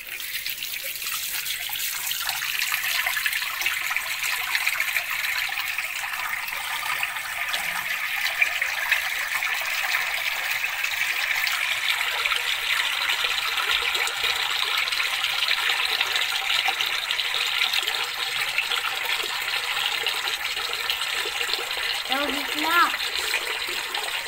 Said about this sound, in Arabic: بصورك وانت بتغسل وشك